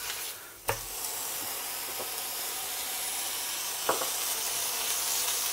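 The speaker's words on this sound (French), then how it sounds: "Allez, on la fait bien griller." Salted shredded beef sizzles quietly in a hot pan with a steady hiss, broken by a couple of sharp clacks of a utensil against the pan, close and without talking.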